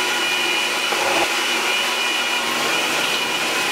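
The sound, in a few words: blender blending green fruit and vegetable juice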